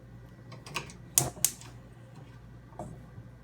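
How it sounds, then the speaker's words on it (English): A gas stove burner being switched on while cooking a prawn malai curry, giving two sharp clicks close together near the middle and a softer click later, with quiet kitchen background. "then I'll switch on the flame again"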